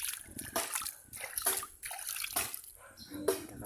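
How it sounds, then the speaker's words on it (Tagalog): Running water splashing and trickling over hands being washed outdoors beside rice fields, a steady close wash with brief louder splashes throughout. "Maghugas nga ako ng kamay."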